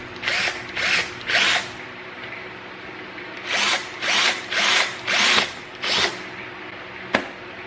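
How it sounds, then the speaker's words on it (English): A power drill whirs in six or seven short bursts with pauses between, biting through the plastic of a Jeep Gladiator cold air intake, ending in a sharp click. "Let's go ahead and drill that hole through there."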